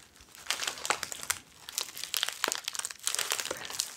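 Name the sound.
bubble wrap crinkling while unboxing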